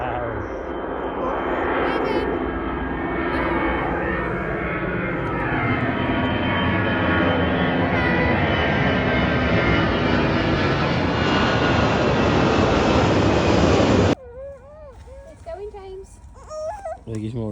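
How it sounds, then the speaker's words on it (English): A loud airplane roars overhead, its engine noise sweeping in pitch as it passes for about fourteen seconds before cutting off abruptly. "There's a plane coming."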